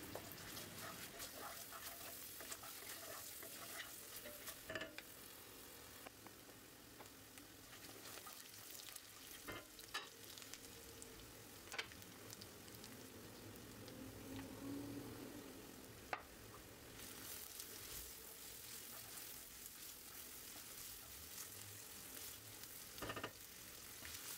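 Low, steady sizzling of chopped onions frying in sunflower oil in a pot, quiet and continuous, with occasional clicks and clatter of a utensil stirring.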